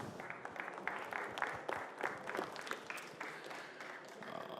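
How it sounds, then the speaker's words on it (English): Brief burst of conference audience applause for a marketing panel, many hands clapping steadily at moderate volume, with no voices over it. "So please applause our beautiful panel here."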